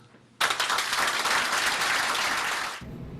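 Teachers in a meeting room burst into applause all at once, a brief, fairly loud round of clapping lasting a couple of seconds before cutting off abruptly.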